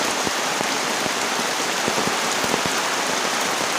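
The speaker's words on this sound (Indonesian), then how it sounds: "hujan deras banget tuh" Heavy rain pounds a camping tent during a storm with strong wind, a dense, steady roar with scattered sharp drop impacts throughout and no voices.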